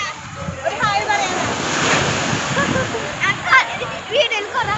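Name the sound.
sea waves at Chavakkad beach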